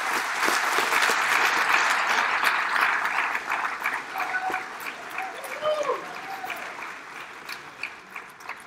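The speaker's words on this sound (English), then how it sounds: "I'm glad y'all clapped" An audience at a public announcement event claps to welcome the mayor, a full burst of applause that gradually thins into scattered claps, with voices murmuring and cheering underneath.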